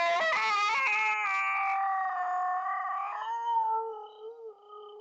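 A loud dog lets out one long, full-volume howl close by, rising then wavering and trailing off into shorter whimpering notes, with no talk over it.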